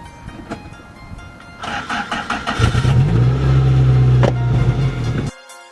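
A racing car engine revs hard during a race and builds to a loud, sustained roar, staying high for a couple of seconds before cutting off abruptly.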